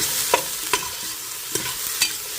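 Celery is stirred into a keto seafood chowder in a pan: four distinct spoon scrapes and clinks sound over a soft, steady background sizzle, close up and with no talking.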